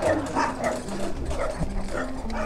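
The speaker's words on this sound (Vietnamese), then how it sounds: "anh chó này anh thân thiện quá, hôm bữa anh rượt mình mấy lần rồi" A dog on a rural road gives a series of short whimpering yips and barks at close range, repeated irregularly over steady low engine-like rumble.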